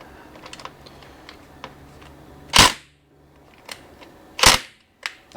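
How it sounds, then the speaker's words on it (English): A rattle gun working on the oil drain plug of a supercharged BMW E39 M5 fires two sharp, loud impact bursts, with lighter clicks and taps scattered between them. "we did just crack it with the rattle gun again"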